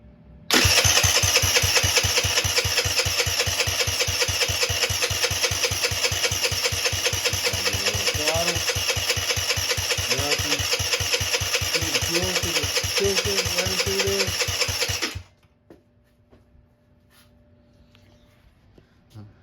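GY6 scooter engine cranking and catching, then running with a loud, fast, steady mechanical chatter for about fifteen seconds before cutting off abruptly, leaving faint clicks and low background hum.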